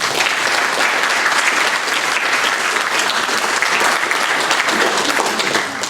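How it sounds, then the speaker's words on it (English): Loud, dense audience applause at a university fall lecture on the future of retail, sustained evenly for about six seconds with no talking. "Please join me in a round of applause for them."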